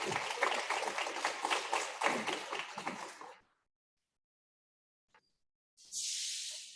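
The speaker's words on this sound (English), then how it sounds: "let's give another round of applause for our class of 2022 inductees" Applause from an audience at a Gold Humanism Honor Society induction ceremony, a burst of clapping lasting a few seconds that stops abruptly, followed by near silence and a later hiss.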